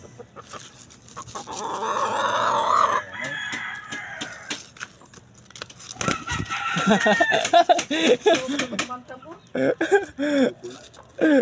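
A rooster crows loudly up close while hens cluck around it, with people chattering in the background.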